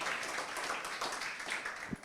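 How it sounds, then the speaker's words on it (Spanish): Church congregation giving a brief round of applause for a sermon's second topic, dense clapping that fills the short clip at moderate level, no voices. "vamos a recibir con un fuerte aplauso este segundo tema"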